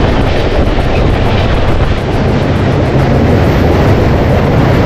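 The 18627 Howrah–Ranchi Intercity Express rushes along at speed, a dense, loud roar of wheels and wind buffeting heard from on board, continuous and without talk.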